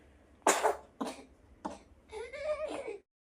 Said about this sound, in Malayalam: ഇടക്കിടക്ക് ഒരു ചുമയുണ്ട്